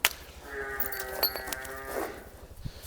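Buffaloes at a livestock sale low and moo, several calls overlapping and fairly close, with no one talking.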